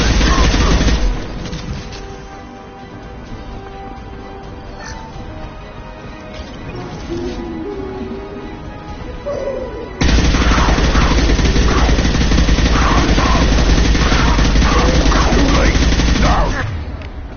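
Sustained automatic gunfire fills a Mass Effect 2 battle, dense rapid bursts with crashes and blasts, lighter mid-section with scattered shots and voices, then a loud continuous fusillade for several seconds before it fades.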